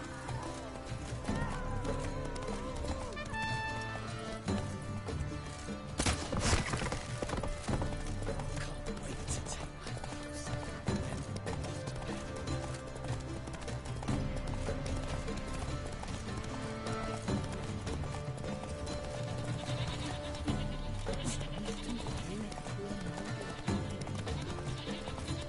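Roach, the horse in the video game The Witcher 3, gallops with a steady, continuous clip-clop of hooves that runs throughout at moderate loudness, blended with game ambience.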